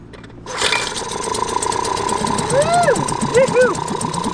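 A boat engine starts abruptly and settles into a loud, steady idle with a rhythmic knock, while people talk and exclaim over it close by.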